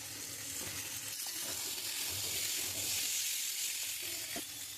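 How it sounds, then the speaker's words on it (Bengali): Pumpkin fries with potatoes and onion in a pan, a soft, fairly quiet hiss with faint stirring scrapes, steady throughout and with no one talking. "এবার আমি আলুটা একটু লাল লাল করে ভেজে নিচ্ছি পেঁয়াজের সাথে। এবার আমি কুমড়োটা দিয়ে দেবো।"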